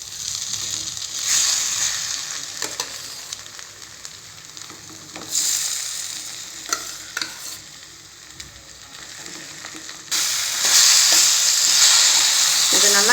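Cooked varagu millet rice is stirred into a sautéed pepper mixture in a pan, giving a steady sizzle broken by scraping stirs that swell louder near the end.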